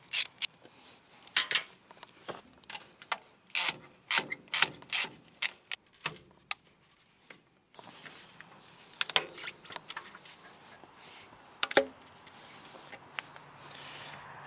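Ratchet wrench with a 10 millimeter socket turning bolts on a Yanmar engine, close rapid clicking bursts in short repeated runs separated by brief pauses.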